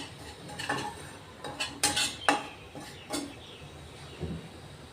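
Semolina (rava) dry-roasting in a pan without ghee is stirred with a utensil, making a series of sharp scraping and clinking strokes against the pan, fairly close and moderately loud, irregular in rhythm over a faint background hiss.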